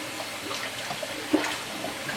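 Water running and splashing as dyed cotton yarn is rinsed, a continuous close wash of water with small sloshes, no talking.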